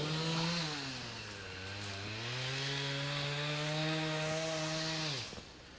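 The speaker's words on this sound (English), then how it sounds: "Not sure how much you can hear with the chainsaw" A chainsaw drones steadily in the woods on a disc golf course, its engine pitch sagging and rising before cutting off, moderately distant and continuous with no talk.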